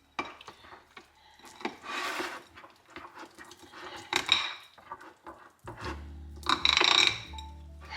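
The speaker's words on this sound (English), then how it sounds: "the bowl's making a noise" Spoon stirring strawberry pound cake batter with lemon juice in a mixing bowl, giving repeated scraping and clattering knocks against the bowl; bursts of rubbing and clinks recur through the clip, with a low steady hum near the end.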